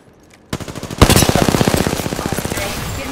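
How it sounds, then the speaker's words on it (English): Rapid automatic gunfire in the video game Apex Legends, a fast steady rattle of close, loud shots that starts abruptly after a brief pause and continues without break. "Getting shot at."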